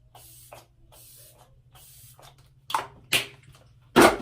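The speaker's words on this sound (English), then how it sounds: "I'm going to hit it with my setting spray." Several short hissing bursts of a makeup setting spray bottle, growing louder, with the last spray the strongest and closest.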